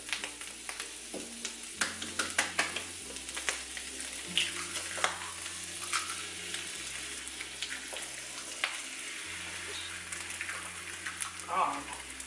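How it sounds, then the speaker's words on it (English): Eggs fry on top of softened pork rinds in a pan with a steady crackling sizzle and scattered pops, close up, while someone talks over the cooking and music plays softly underneath. "And now we're gonna crack our eggs on top of this."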